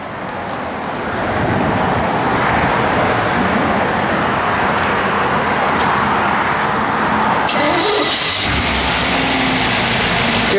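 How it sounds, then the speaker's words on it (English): A 1957 Chevrolet 210 engine idles steadily and close, a continuous mid-pitched running with faint valvetrain ticking, then a sharp click and a shift in tone near the end. "Hear that little camshaft working in there."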